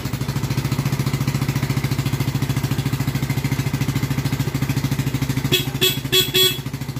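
A Yamaha Mio Sporty scooter idles close by with a steady, even putter of engine pulses, joined near the end by a few short horn toots.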